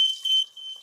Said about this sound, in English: My alarm will sound now.